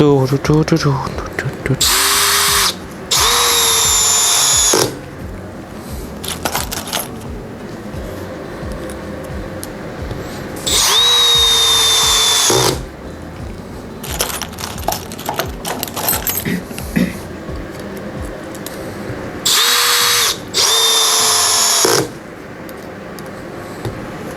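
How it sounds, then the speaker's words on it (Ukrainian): A Milwaukee M18 CBLPD cordless impact drill drives screws into an oak beam in three loud, close bursts of several seconds each, with pitch bending as each screw seats. Quieter handling and shuffling noises fill the gaps between runs. "Зараз ми спробуємо покрутити саморізи в дубову балку."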